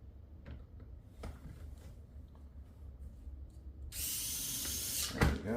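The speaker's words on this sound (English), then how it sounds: "That's where these electric screwdrivers are really nice to have." An electric screwdriver drives a screw into a smart door lock during installation, a steady whirring run near the end that follows a few soft knocks and handling noises.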